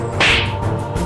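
A whip lashes once as someone is beaten, a single sharp, loud crack heard close, followed by a brief fading swish with no talking.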